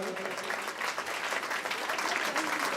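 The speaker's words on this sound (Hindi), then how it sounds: "आप लोग ताली बजा करके सम्मान करेंगे।" An audience at an Akhand Navdha Ramayan recital in Bijour claps steadily in honour of a donor, a dense, continuous round of applause filling the space from start to end with a faint voice underneath.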